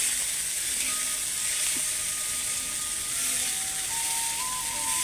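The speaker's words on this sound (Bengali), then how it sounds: "এবার চিংড়ি মাছকে সুন্দর করে ভেজে নিতে হবে" Prawns frying in a hot pan while vegetables like pumpkin and aubergine have just been fried, giving a steady, even sizzle throughout with faint metallic clicks, and no voices.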